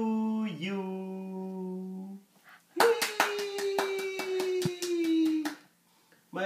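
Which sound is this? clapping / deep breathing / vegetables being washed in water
clapping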